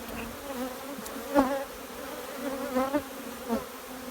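Honeybees buzz steadily around a hive, a continuous droning hum with individual bees swelling louder as they pass close, no voices.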